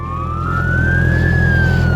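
Ambulance siren wailing loud and close in a single slow rising-and-falling sweep over a low engine rumble, with no talking.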